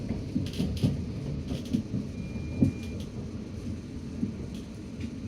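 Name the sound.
SWR train running from Waterloo to Weybridge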